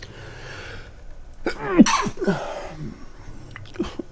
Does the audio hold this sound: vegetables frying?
no